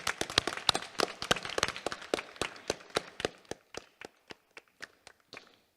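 A scattered audience at a school thespian society awards night claps for parents, sharp individual claps at first dense and quick, then thinning into slower, sparser claps that fade out.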